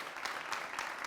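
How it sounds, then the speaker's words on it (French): Audience applause at a live event, dense clapping with a few sharper bursts rising from a continuous bed, brief and steady at moderate distance. "On va faire bien plus d'applaudissements"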